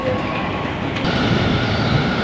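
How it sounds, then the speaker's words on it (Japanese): A Tobu Railway train bound for Tobu-Dobutsu-Koen pulls into Shin-Koshigaya station, its steady rolling rumble and track noise close and continuous, with a brief higher screech partway through. "東武動物公園行きの電車が入線してきました"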